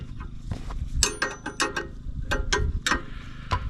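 Ratcheting clicks from tightening the bolt-on ball hitch on a Yamaha YFM250 Moto-4 ATV, a close series of sharp metallic ratchet bursts in an irregular rhythm over low mechanical rumble.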